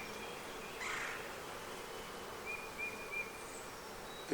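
Young honeybees in a Flow Hive give off a faint, thin buzzing, with a few brief louder passes of individual bees over a quiet outdoor background.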